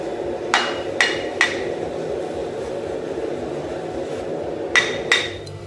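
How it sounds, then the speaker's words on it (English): Sharp hammer blows drive a steel drift into the eye of a hand-forged Dane axe, five ringing metallic strikes in two clusters, fairly close, over a steady background hum with no talk. "the very last step in getting everything brought into line is putting the drift in"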